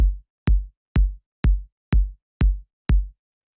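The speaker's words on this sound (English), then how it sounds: "the first sound I have here is this kick" Short, punchy kick drum sample for minimal techno, struck seven times at a steady even pulse, each hit a tight thump with a quick decay and silence between.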